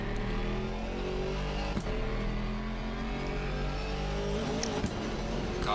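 Race car engine in Assetto Corsa Competizione, a sustained droning roar with shifting pitch as a car passes, heard steadily with brief clicks and no talking.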